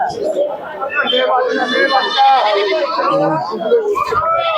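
Pigeons coo at a busy pigeon market in Santipur, a soft warbling murmur heard close beneath steady nearby talk and market chatter.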